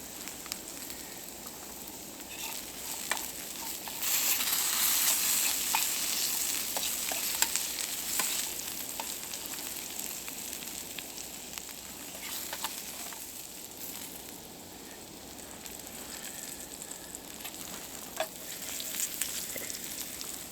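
Steak sizzles and crackles steadily in a restored hunter's fry pan outdoors in the snow, a continuous frying hiss with sharp pops and stirring scrapes, louder for a stretch midway.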